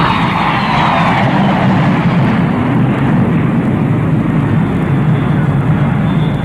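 An airplane arriving at an airport gives a loud, continuous engine roar that holds steady throughout, close and unbroken, with no talking over it.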